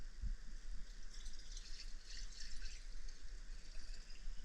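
Red wine poured into a container at home, a steady quiet liquid trickle with faint splashing running throughout, close by and soft, with no talk.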